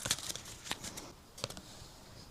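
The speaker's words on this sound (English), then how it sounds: "just as in the tarot cards, I'm just shuffling until it feels right" Quiet, close shuffling of tarot cards: a few quick riffled flicks and soft slaps, with short pauses between them.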